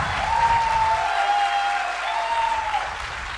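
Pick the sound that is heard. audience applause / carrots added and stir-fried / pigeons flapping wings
audience applause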